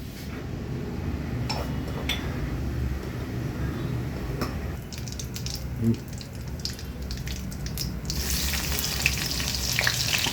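Spices fry in hot oil in a pan after aubergine pieces are lifted out, a steady sizzle with scattered spoon taps and scrapes, turning brighter and hissier near the end.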